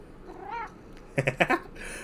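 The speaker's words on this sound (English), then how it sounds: "I'm also going to say goodbye with my cat" A pet cat named Giovanna meows close by, a soft drawn-out call followed by a quick burst of two or three short, louder meows, with no talking.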